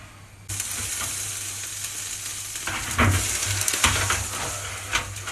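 Chicken sizzles steadily on a grill over a tray of rice and potatoes, a bright continuous frying hiss that jumps louder after a brief quieter start, with occasional crackles and pops.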